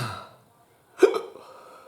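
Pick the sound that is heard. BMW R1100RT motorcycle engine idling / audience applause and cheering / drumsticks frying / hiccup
hiccup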